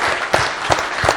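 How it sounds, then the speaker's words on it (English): An audience at a corporate leadership event applauds, a brief burst of dense, steady clapping from many hands with faint rhythmic peaks. "a huge round of applause for all the pre-sales folks"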